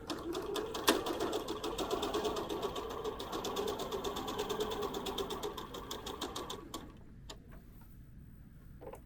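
Quick, steady stitching of a sewing machine chain piecing quilted puff pockets, a dense run of rapid mechanical ticks held for about seven seconds before stopping, followed by a few faint clicks in a quiet room.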